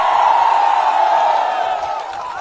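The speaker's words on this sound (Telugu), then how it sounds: "చప్పట్లు కొట్టి అభినందించండి" A crowd at a Telugu public speech cheers and applauds in a steady, loud, dense roar that holds from start to finish with no clear speech.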